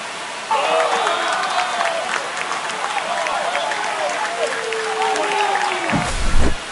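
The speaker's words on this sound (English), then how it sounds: "Here comes the crowd. They're feeling it right now." A baseball video game crowd in MLB The Show 25, Red Sox against Yankees, roars after a home run in the eighth inning. The cheering and applause wash in after a brief pause and hold as a steady, loud, dense swell to the end.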